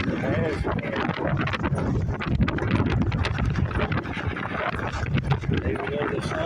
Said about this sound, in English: that wind will absolutely freeze you